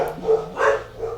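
Dogs bark in three quick bursts over about a second, moderately loud and close, with no talking.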